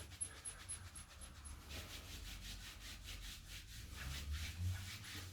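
Hands rub the arm and shoulder during a gentle seated exercise, giving a faint, continuous dry swishing close by, with no talk.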